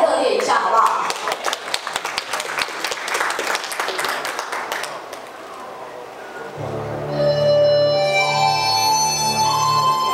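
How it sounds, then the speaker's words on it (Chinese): Applause and clapping from a wedding showcase audience at Janfusun Fancyworld's underground banquet venue, dense at first and then thinning, before music with sustained tones takes over in the second half. "掌声不够热烈啊、哦！我们再热烈一下，好不好？"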